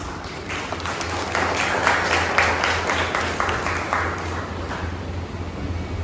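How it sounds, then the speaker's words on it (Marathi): Audience applause at a Marathi community bride-and-groom matchmaking gathering, a sustained wash of many hands clapping that holds steady and loud for several seconds, with no one speaking over it. "त्यांचं स्वागत करूया सगळे टाळ्या वाजवून"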